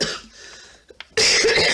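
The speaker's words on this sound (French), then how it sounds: "je tousse toujours, mais ça va se calmer" A single harsh cough bursts out near the mic after a quiet breath and a small throat sound.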